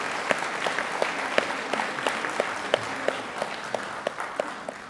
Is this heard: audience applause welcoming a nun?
yes